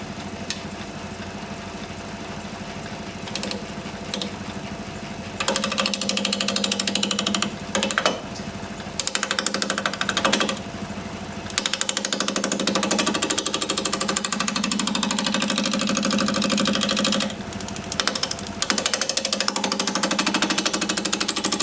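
A wood lathe spinning a piece at roughly 750 RPM gives a loud, continuous mechanical rattle and hum, with the sound dropping out briefly several times as the turning stops and restarts.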